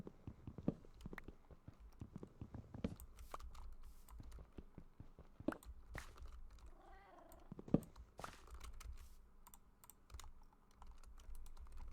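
A cat in the Minecraft game purring softly with an occasional meow, mixed under busy, irregular computer keyboard typing clicks that dominate the faint, quiet scene.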